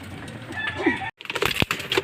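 Hungry pigeons in a flock call and coo noisily before feeding, with bursts of cooing and bright chirps close by and a brief drop to silence midway.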